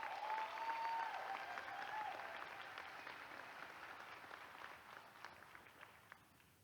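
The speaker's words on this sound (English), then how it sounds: "Let's give them a big round of applause." Applause for graduates at the Camden Early College High School graduation ceremony, a broad, somewhat distant crowd clapping that starts full and gradually thins out, leaving scattered individual claps.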